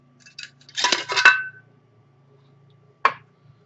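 A metal Polish camping stove is handled and fitted together, with a cluster of bright metallic clanks and rattles followed by a single sharp clink after a pause, close and alone.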